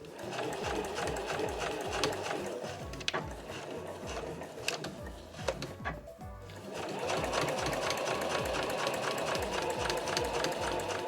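Home sewing machine stitching the bottom seam of a quilted nubi tote bag's lining, a steady, close mechanical whir of rapid needle strokes that drops briefly around mid-way, then resumes at full speed.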